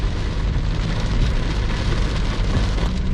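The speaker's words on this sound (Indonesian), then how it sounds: "Ini cuacanya hujan lebat." Heavy rain pours down in a dense, steady roar, hissing loudly and evenly throughout with no voices.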